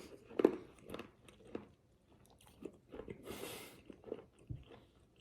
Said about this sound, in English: You're supposed to chew them, but I'm a savage, so I actually, before I eat, I bite them.